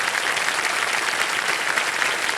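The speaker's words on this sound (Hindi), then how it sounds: "एक बार फिर तालियों के साथ आपका स्वागत है" The audience of the Indian quiz show Kaun Banega Crorepati applauds to welcome a contestant's husband, producing a continuous, evenly loud roar of many hands clapping with no pauses.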